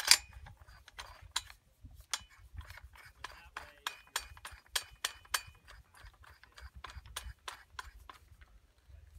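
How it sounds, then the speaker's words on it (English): A taper-mount suppressor threading onto an AR-15 rifle, a faint series of quick metallic clicks and ticks repeating irregularly over several seconds in a quiet setting. "That taper mount definitely takes a few revolutions to get on there"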